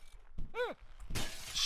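Glass shattering in the video game Happy Wheels: a bright crash near 1.1 s that sprays into a sustained glittering spill, following a thud and a swooping descending tone.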